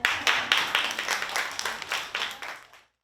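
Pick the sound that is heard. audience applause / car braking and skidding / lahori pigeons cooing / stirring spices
audience applause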